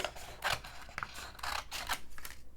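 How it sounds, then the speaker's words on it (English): Tim Holtz scissors snipping through paper, a quick series of crisp cutting strokes close to the microphone, each a short rasping burst, with no talking. "I'm going to go ahead and just cut this paper with my scissor"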